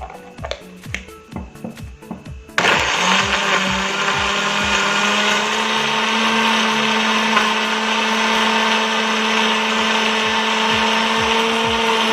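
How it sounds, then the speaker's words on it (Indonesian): A few light taps, then a blender kicks on and runs loudly and steadily, blending spices with water, a constant high whirring drone that continues to the end. "sekarang kita mulai memblender bumbu yang akan dihaluskan"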